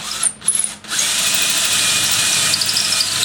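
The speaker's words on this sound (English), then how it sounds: "So I'll drill them out." A power drill whines steadily as it bores out lug holes in a wooden stave drum shell, starting with a few short bursts before settling into one continuous, close, loud run.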